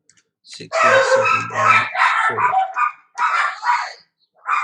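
Dogs barking close by, a run of loud, harsh barks in several bursts separated by short pauses, with no talk over them.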